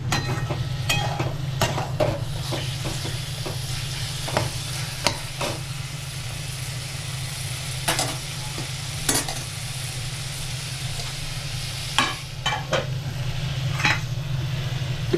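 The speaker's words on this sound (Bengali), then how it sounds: "আমি পটলগুলোও দিয়ে দেবো। একটুখানি 2-3 মিনিট খালি হালকা নাড়াচাড়া করে" Pointed gourd (potol) stirred and frying in a pan while making potol chingri, a steady sizzle under repeated scraping strokes and occasional sharp utensil clinks against the pan, close and continuous without talk.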